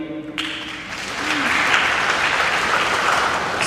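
Graduation ceremony crowd breaks into applause for the photography company, starting just after a brief voice and then swelling into a steady, dense clapping that holds to the end.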